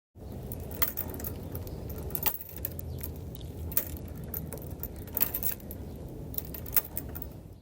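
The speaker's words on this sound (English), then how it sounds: "That was the sound of the chains on our swing set clinking together as I swung on the swings." Light metallic clinks and jingles of swing set chains recur irregularly over a steady outdoor rumble, knocking together at a gentle rhythm as someone swings.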